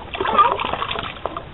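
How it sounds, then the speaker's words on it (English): Beer bottles are shaken in a clean water rinse while bottling a Belgian wit, giving a short burst of sloshing, splashing water close by. "I put them into just a clean water solution and just shake"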